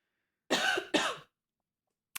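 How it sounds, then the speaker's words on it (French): Two harsh coughs in quick succession, close and fairly loud, followed by silence and a faint click at the end. "Je vais tousser 2 secondes."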